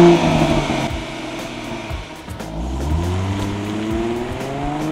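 A lime green Ford Mustang convertible with a 3.7 liter V6 and 18 inch sport tires on a test drive, its engine droning loud and close, dipping and then revving up with rising pitch.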